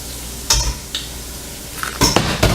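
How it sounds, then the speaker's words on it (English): Grits being stirred with green onion and butter sauce, a spoon scraping and clinking against the pot in a few short bursts, close and fairly loud, with no talking. "we're gonna mix all of that together"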